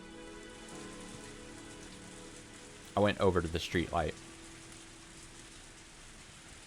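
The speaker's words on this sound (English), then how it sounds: "The constant rain, sound effect just brings a lot of, memories of Umineko to me." Steady rain from Higurashi When They Cry falls throughout as a constant, even wash, with a single voice speaking briefly over it in the middle.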